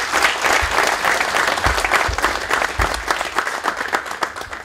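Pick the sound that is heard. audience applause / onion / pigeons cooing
audience applause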